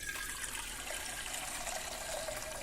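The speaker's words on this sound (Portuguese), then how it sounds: "Eu vou colocar aqui nessa panela 2 litros de água" Two litres of water running steadily into a cooking pot for a pineapple syrup, a continuous even splashing gush at close range with no talk.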